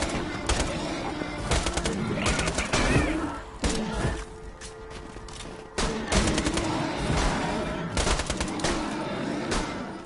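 Machine gun fire in Borderlands 2 rattles in loud, rapid bursts separated by short pauses, with thuds and game effects around it.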